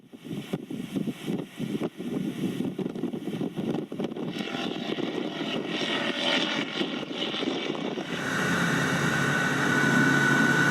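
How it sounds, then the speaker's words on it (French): A small aircraft taking off from Marignane, engine and propeller drone building from a rough rumble into a louder, steadier roar that swells toward the end. "Décollage."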